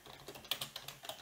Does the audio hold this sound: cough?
no